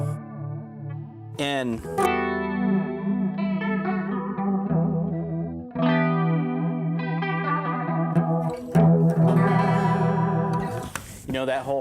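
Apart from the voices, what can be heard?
guitar through Keeley DarkSide V2 pedal, underwater modulation sound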